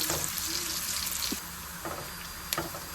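Onions and green chilies fry gently in a pan for matar pulao. A soft, steady sizzle runs throughout, with a few faint clinks and stirs.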